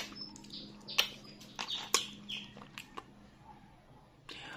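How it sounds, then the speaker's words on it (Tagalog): Birds chirp outdoors in short, bright calls, several sharp peaks spread irregularly over a few seconds against a quiet background. "Ang sarap pakinggan ng tweet-tweet ng mga ibong Adarna."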